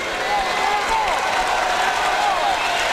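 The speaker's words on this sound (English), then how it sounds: "The crowd here at US Air Arena in Landover, Maryland, enjoying it." A boxing crowd applauds and cheers steadily at US Air Arena in Landover, Maryland. The clapping is a dense, even wash, and a commentator's voice talks over it.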